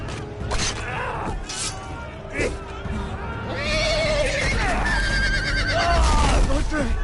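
A horse whinnies loudly and close in a medieval setting, a rising, quavering neigh that repeats toward the end amid creaking, hoof clops and shouting voices.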